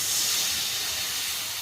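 Milk poured into a hot pan, giving a steady, close, bright hiss like steam that fades slightly toward the end, with no talking.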